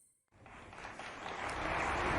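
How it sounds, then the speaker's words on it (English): Applause starts abruptly after a moment of silence and swells steadily, a dense crowd clapping that grows louder. "I don't need applause, thank you."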